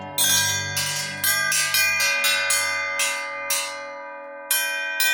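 Bright metallic rings from Roto Tom drum rims struck one after another, each ringing out with a long, bell-like sustain that overlaps the next; several strikes in a loose, irregular rhythm.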